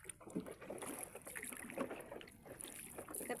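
A small fiberglass kayak gliding across water, with soft paddle splashes and lapping ripples under steady wind noise, close by.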